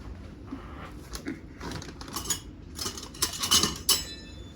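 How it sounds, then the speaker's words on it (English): A big serving spoon scraping and clinking against a dish while tuna salad is served, scattered light metallic taps that gather into a louder cluster of clinks near the end, close by with no talk. "Let me get a big old serving spoon here."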